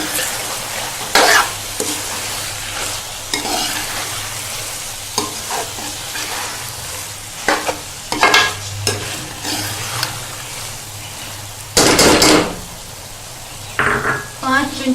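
Mixed vegetable sabji with finely chopped ginger frying in a pan, with a steady sizzle under irregular, close scraping and stirring strokes, plus a few sharper clanks of the utensil against the pan.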